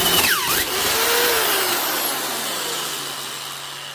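A Black & Decker half-inch corded drill spins a dull self-feed bit, its motor whining down through a brief dip and stall at breakthrough, then running on alone with a steady hum.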